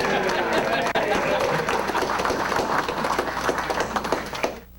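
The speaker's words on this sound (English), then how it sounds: "Applause greeted the news that plans for live fire on Lake Erie had been dropped" At a fishermen's meeting about dropped Lake Erie live-fire plans, a room full of people claps in a dense, sustained patter that tapers off at the end, with voices mixed underneath.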